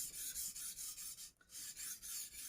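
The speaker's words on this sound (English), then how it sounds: "More or less we just develop a burr on the knife." An Old Hickory carbon steel hunting knife is drawn across a sharpening stone to raise a burr, giving a quick series of rhythmic rasping strokes with a brief pause midway, close and clear.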